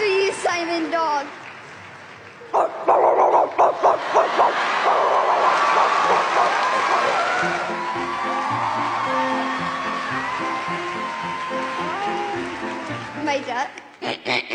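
A voice imitates a dog barking, giving a string of yappy barks and whoops that swell into a long, continuous vocal passage, with other voices nearby.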